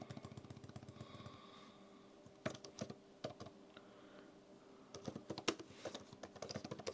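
Typing on a Sodi Bluetooth keyboard case for an iPad Pro, quiet close clicky keystrokes in fast bursts with brief gaps, fairly faint and without voices.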